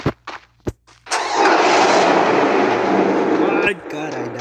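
A motorcycle in the Free Fire video game starts up with a few short bursts, then roars in a loud sustained engine drone for a few seconds before dropping to a lower idle, with a player's voice briefly over it.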